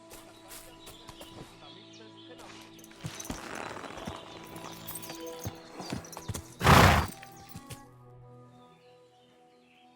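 Horse hooves clip-clopping in the video game Kingdom Come Deliverance II, irregular clops against background ambience with a brief loud burst near the middle, fading toward the end.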